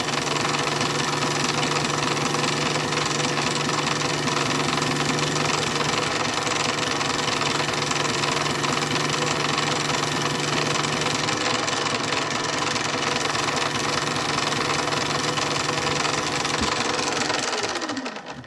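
A lathe spins a steel wheel-hub part for a Dodge Dakota front 5-lug conversion while it is polished with Scotch-Brite, giving a steady, close motor hum with a faint rattling texture that runs unbroken and winds down at the very end.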